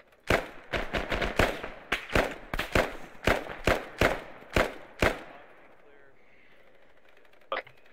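Bursts of automatic gunfire from a shooter in Arma 3, a dense run of sharp, loud cracks for about five seconds, then a quiet tail with one last faint shot.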